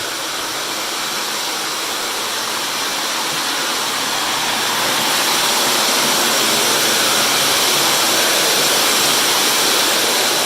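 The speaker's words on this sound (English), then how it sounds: "Got the blowers going, drying the polyurethane." Air blowers run at full power drying a fresh polyurethane finish on refinished wood floors, a loud continuous rushing roar that builds slightly and holds steady without any voices.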